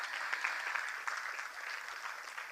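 An audience at a Bharatanatyam dance event claps for the dancers in steady, moderately loud applause from many hands, heard alone without talk.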